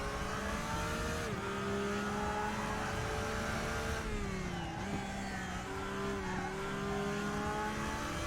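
A Porsche GT3 race car engine in the racing game RaceRoom revs steadily at high pitch, the note dipping and climbing through gear changes, loud and continuous with no talk.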